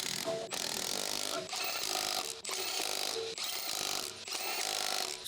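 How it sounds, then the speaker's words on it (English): Car jack being lowered under a Ford F-series pickup during rear shock absorber replacement, a steady close mechanical ratcheting with regular short breaks, loud and continuous with no talking. "Slowly lower the jack."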